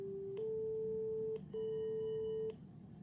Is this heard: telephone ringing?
yes